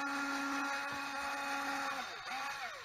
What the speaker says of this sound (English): to keep from splitting anything, I'm going to drill this out.